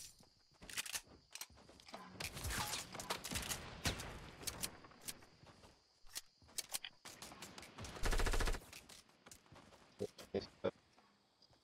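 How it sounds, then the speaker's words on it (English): Bursts of automatic gunfire and scattered single shots in a battle royale game, some close and sharp, others quieter and farther off, with footsteps and brief speech in between. "Where are they shooting from?"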